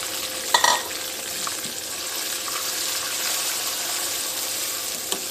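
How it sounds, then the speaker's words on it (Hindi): Tomato puree frying with coriander powder, salt, chilli and turmeric in a pan for fish curry: a steady broadband sizzle throughout, with a few brief stirring clinks near the start, no talk. "अब हम इसके अंदर ये जो हमारी टमाटर की प्यूरी हम ये डाल देंगे इसमें"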